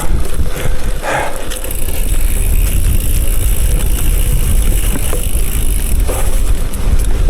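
A bicycle rolls over a sandy gravel road with a steady crunch and rush of tyre noise, mixed with wind buffeting close by and no voices.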